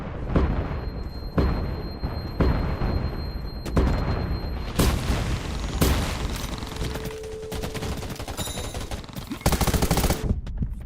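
Rapid bursts of gunfire from the video game Undawn, dense and loud, with repeated volleys and automatic fire stacking up over a steady background of game effects.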